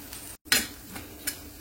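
Moong dal roasting in ghee in a pan for halwa, with soft scraping stirs and a faint sizzle, one sharp clatter of a spoon, and a couple of brief tick-like touches, close and quiet.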